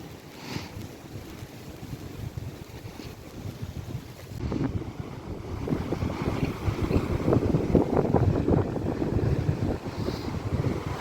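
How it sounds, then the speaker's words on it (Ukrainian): Stormy Black Sea surf at Odesa churns and crashes close by, and gusting wind buffets the microphone. The roar swells louder and rougher after the first few seconds, with no voices. "Море сьогодні таке бушує."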